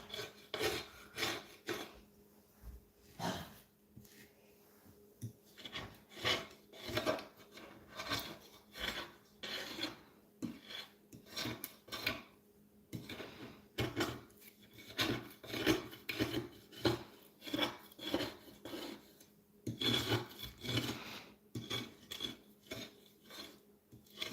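Close, soft scraping of a paint palette with a small razor blade, quick rasping strokes repeated in bursts with brief gaps, faint and steady throughout, no talking.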